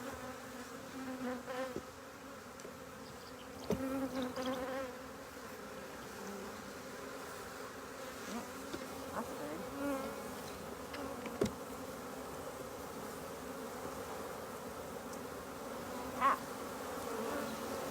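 Honey bees buzz steadily around an open beehive during a frame inspection, a continuous soft drone with a few brief louder passes close by and occasional faint handling knocks.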